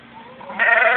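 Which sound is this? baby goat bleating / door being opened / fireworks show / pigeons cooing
baby goat bleating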